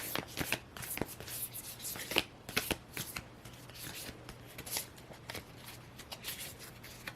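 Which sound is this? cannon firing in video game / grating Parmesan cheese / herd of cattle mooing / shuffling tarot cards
shuffling tarot cards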